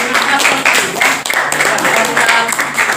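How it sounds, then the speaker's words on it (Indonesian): Classroom applause for a student named Rasti during a school lesson, a dense, steady patter of many hands clapping close by for about three seconds with a brief dip midway. "berikan aplaus ya untuk Rasti"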